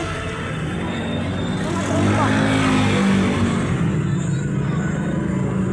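Busy road traffic with many cars makes a steady, dense roar of engines and tires passing close by, swelling louder midway, while people talk over it.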